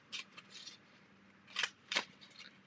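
Scissors trimming paper strips for a layered craft background, a few quiet, short snips in separate bursts at close range.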